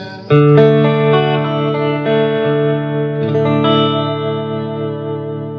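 Electric guitar chords from a Fender Stratocaster in the middle pickup position ring out through a warm Fender '68 Custom Vibro Champ Reverb tube amp, sustained and layered with lush digital hall reverb and a shimmering chorus-like wash.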